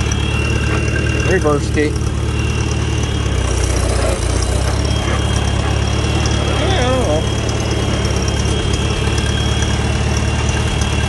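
A Farmall Super A tractor fitted with a belly mower chugs at low idle, a steady low engine drone running throughout with people talking over it.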